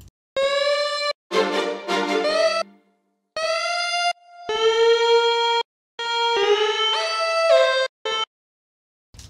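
Synth lead melody loop from a melodic future bass EDM track, bright sustained tones with pitch glides and stepping notes in phrases broken by short pauses, loud and alone without talk.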